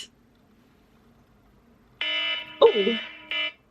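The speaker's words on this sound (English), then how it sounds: "that's my alarm to go live" A short electronic phone alarm tone beeps twice in quick succession, interrupted by a brief spoken exclamation, in an otherwise quiet room.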